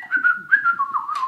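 A merry tune is whistled alone for a moment, a close, clear, wavering melody of a few short notes gliding from pitch to pitch.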